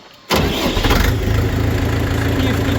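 Engine of a Kentavr walk-behind tractor starting on the key: a brief crank catches abruptly, then settles into a loud, steady, close idle that runs to the end.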